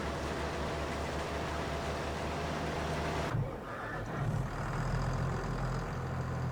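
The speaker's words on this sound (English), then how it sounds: "I'll go get the tractor and trailer" A Landini tractor engine in Farming Simulator 22 gives a steady low diesel hum and rumble. A brief shift partway through brings a lighter idling drone, with no speech.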